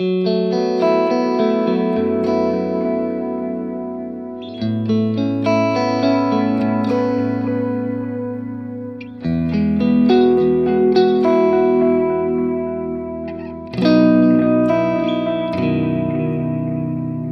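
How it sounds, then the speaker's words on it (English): Electric guitar plays through a Tone City pedal set to a warm delay, with chords and melodic phrases trailing soft repeats that blur into a continuous wash, loud and close throughout. "Again, a very nice, warm sounding delay."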